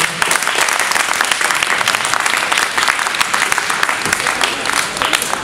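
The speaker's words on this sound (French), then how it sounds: "Applaudissements." A crowd claps steadily and loudly at the inauguration of an Italian film festival in Knutange, sustained applause throughout with no clear voices over it.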